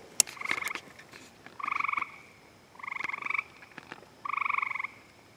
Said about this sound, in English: Is the other frog still there?